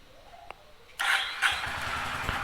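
A Honda H'ness CB 350 motorcycle fires up after a brief starter crank, settling into a close, loud, steady idle with a low thumping pulse.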